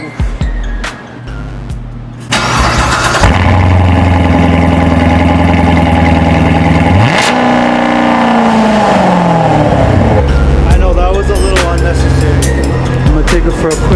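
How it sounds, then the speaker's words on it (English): Chevrolet Corvette, top down, cold starting with a loud crank and catch, then a high raised idle that settles lower into a steady rumble, with a brief blip later and a voice speaking over it. "Let's do a cold start."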